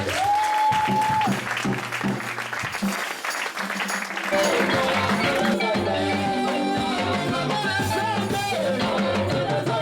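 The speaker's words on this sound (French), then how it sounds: "Est-ce qu'on peut acclamer très fortement?" A church congregation at a Sunday service claps and cheers loudly, a dense, continuous roar of applause with shouting voices mixed in, and music and a voice carrying beneath it throughout.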